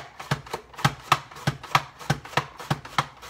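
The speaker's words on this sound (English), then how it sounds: "now you can see how beautifully it slices cucumber into very long matchsticks" A mandoline slicer with a plunger cutting cucumber into long matchsticks: steady, evenly spaced crisp slicing strokes, about three per second, close and clear with no talk.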